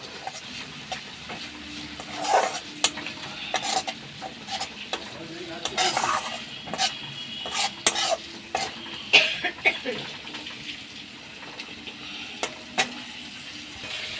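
Masala stir-fried in a pan with a little added water for lote bahar, a soft steady sizzle broken by repeated scraping and clinking strokes of a spoon against the pan, close by and with no talk.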